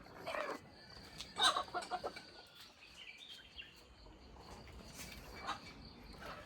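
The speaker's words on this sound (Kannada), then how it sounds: "ಕೋಳಿಗಳು ಜಗಳ ಆಡ್ತಾ ಇದ್ದಾವೆ" Chickens squawk and cluck in short agitated bursts, a flurry near the start and another later, over a quiet outdoor background.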